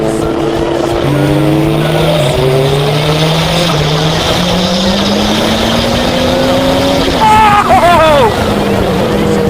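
A Formula 2 race car's engine climbs steadily in pitch on a light, careful throttle, loud and close from onboard, then bursts into a sharp, rising snarl near the end.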